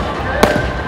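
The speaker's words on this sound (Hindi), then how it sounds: "सुनाई दे रहा होगा आपको पटाखों की।" A firecracker bursts at a crowded Dussehra fair in Jhansi, one sharp close bang with a brief echo, over constant crowd noise and nearby talk.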